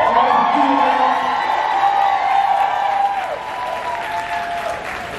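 A crowd at a Revolt event claps and cheers loudly and steadily, with whoops over the applause before it eases slightly near the end.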